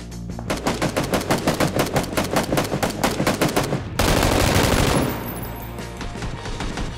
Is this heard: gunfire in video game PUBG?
yes